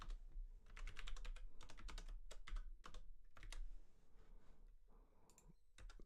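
Rapid typing on a computer keyboard, a steady run of crisp clicks and key taps with short pauses, close and fairly quiet, with no speech.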